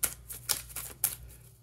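Playing cards are shuffled by hand in a series of quick, crisp riffles and clicks, close and fairly quiet, with brief pauses between bursts.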